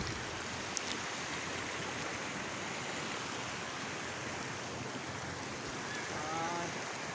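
Water pours into a previously dry canal and tumbles over a ramp, making a continuous broad rushing wash that holds steady and fairly soft throughout, with no voices.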